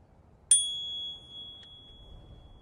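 A single bright ding from the bell on an ENGWE ZIP electric folding e-bike, struck once up close and ringing out with a clear sustained tone that fades over about a second, then a faint tap.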